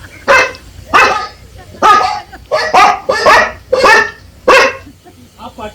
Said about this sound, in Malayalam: ആ പട്ടി വെറുതെ കുറയ്ക്കേ ഉള്ളൂ.